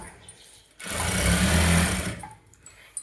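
A normal domestic sewing machine stitches a saree fall in one steady, whirring burst of rapid needle strokes lasting over a second, close and loud, with quiet moments before and after.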